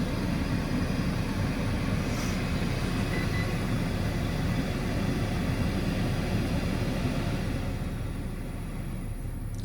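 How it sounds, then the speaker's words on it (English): A steady, broadband hiss with a low rumble comes from the air conditioning of a BMW E65 with a suspected faulty AUC sensor. It sounds close and unbroken for nearly ten seconds, easing slightly at the end, with no talk. "Why that hiss coming from the aircon."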